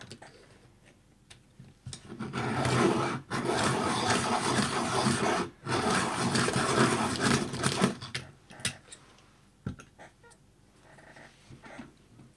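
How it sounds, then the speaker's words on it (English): A graphite pencil is sharpened in a few bursts of steady scraping grinding with brief pauses between them, close and fairly loud with no talking. "So I just need to quickly sharpen this pencil."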